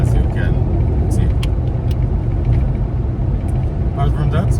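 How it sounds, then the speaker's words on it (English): An Alfa Romeo 147 rolling over an uneven road, loud continuous engine and tyre rumble from inside the car with occasional bumps and knocks from the irregular surface. "This car doesn't really deal very well with some of these irregularities, as you can see."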